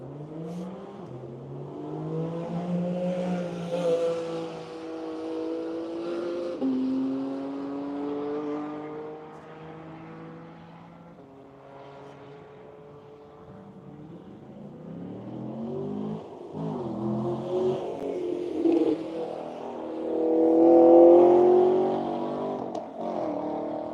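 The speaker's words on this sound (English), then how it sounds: "The Buckley Barnes Corvette off on his 3 laps." A Buckley Barnes Corvette race car pulls away and accelerates through its gears on a track, the engine note rising and falling as it heads off and fades, then builds again near the end.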